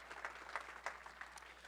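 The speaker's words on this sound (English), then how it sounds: "Give them another round of applause." Faint, short applause from a business mastermind audience, a few scattered claps over a low steady hum.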